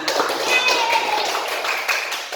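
A class of children claps hands in a teaching-practice lesson, a dense burst of overlapping claps spanning the whole moment, with voices mixed in.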